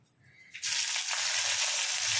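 Thinly sliced onions hit hot oil in a pan where bay leaves are already cooking over high heat, for a fish curry. A sudden loud, steady sizzle starts and keeps going, close by, with no talking.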